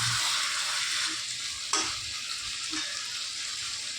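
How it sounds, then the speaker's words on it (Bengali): Cauliflower and potato sautéing in a pan for a rui fish curry, giving a steady broadband sizzle with a few stirring scrapes. The cooking sound is close and even throughout. "এবার আলুর সাথে ফুলকপিটা ভালো করে কষিয়ে নেবে"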